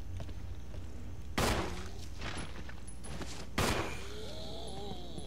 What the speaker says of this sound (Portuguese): Deu um tiro nele sem querer